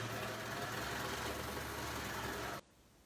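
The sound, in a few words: serger sewing machine running to sew out threads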